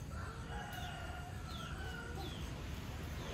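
Chickens at a rural family home cluck and call in short rising bursts over a constant low background hum, fairly faint and somewhat distant, with no talk.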